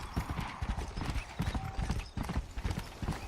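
Horse hooves clip-clopping in the Western game Red Dead Redemption, a quick, uneven stream of loud, close hoofbeats with a brief whinny-like tone partway through.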